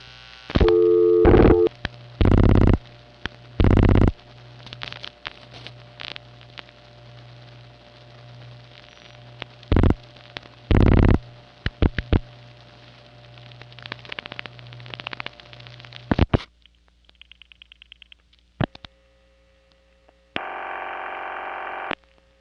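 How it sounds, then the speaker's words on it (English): Telephone calls dial through a 1973 New York panel switching exchange: bursts of tone, clicks and pulses over a steady hum, a long stretch of line noise, then a sustained ringing or busy-type tone near the end. "When we dial a number at Pfizer, or Borden's, or NYU for that matter, it PCIs directly to Amsterdam 2."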